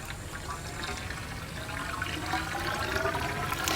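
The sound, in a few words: water being poured into a pool pump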